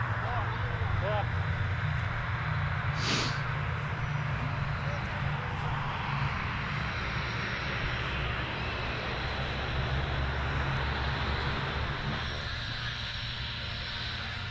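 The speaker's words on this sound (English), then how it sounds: "plane's landing right behind you." A fixed-wing airplane comes in to land close by, its steady engine roar and broadband rush loud and continuous throughout, mixed with low rumbling wind noise and light talk in the background.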